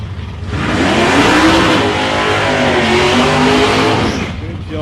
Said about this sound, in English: 423 cubic inch Ford, he has got that thing singing. Yeah, you can hear it.